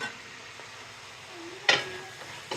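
Coconut being sautéed in a pan for an egg and coconut curry, giving a soft, steady sizzle close by, with a couple of brief stirring clatters partway through and near the end.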